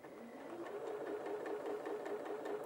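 A Janome 8200QCP sewing machine stitches a quarter-inch seam, its motor whirring steadily with a fast, even needle clatter, close and moderately quiet, with no talking.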